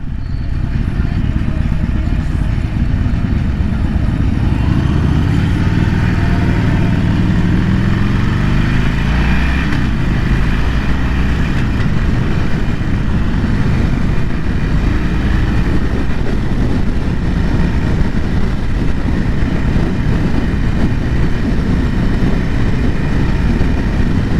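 A 2020 Harley-Davidson Iron Sportster 1200 rides in second gear, its engine droning loud and steady throughout with a broad rumble, rising pitch briefly early on, mixed with wind noise.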